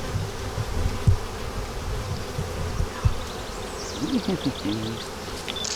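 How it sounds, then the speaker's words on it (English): Honeybees, dark Italian-type bees from a Ukrainian-style hive, swarm around the opened hive with a dense, continuous buzz close to the listener, individual bees zipping past, while people talk softly nearby. "got a lot of bees in here, that's for sure"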